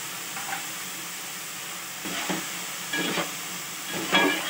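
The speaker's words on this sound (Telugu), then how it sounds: "ఈ టమాటా అంతా మెత్తగా అయ్యేంత వరకు ఉడికించేసుకోవాలండి." Tomato pieces with salt, chili powder and turmeric sizzle and cook in a pan for dal khichdi, a steady soft frying hiss with a few louder stirring bursts, close and with no talking.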